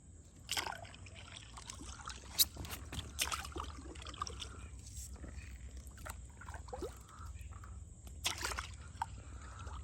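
An inflatable Jiubenju stand-up paddle board is paddled on open water. Irregular paddle strokes slosh and trickle close by, with gentle dripping between them over a low steady background hum.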